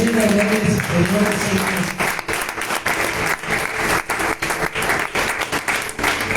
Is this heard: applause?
yes